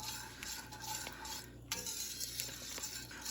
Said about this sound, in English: And then we'll whisk that.